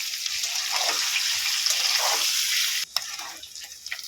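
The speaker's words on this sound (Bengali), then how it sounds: "অল্প করে নুন দিয়ে দেবো একটু হলুদ দিয়ে দেবো দিয়ে এটাকে ভালো করে ভেজে নেব" Potatoes fry in oil seasoned with salt and turmeric while cooking jackfruit seeds, a steady close hiss of sizzling that drops briefly near the end before resuming with small crackles.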